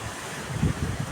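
Strong typhoon wind roars steadily across the microphone, a dense rushing noise with brief louder gusts and no voices.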